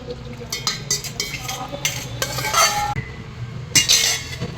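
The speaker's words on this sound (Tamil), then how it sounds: "இப்போ இந்த நட்ஸு இந்த கலவை எல்லாம் சேர்ந்து இப்போ நல்லா கலக்கிடலாம்" Nuts being stirred into a thick plum cake batter in a metal bowl or pan, with repeated scraping clinks and clatter from the spoon coming close and fairly loud, with no one talking.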